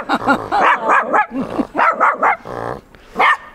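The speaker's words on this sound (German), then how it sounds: "Ein Chihuahua." A Chihuahua barks close by in a quick series of sharp, high-pitched yaps with short pauses between them, ending in one final bark.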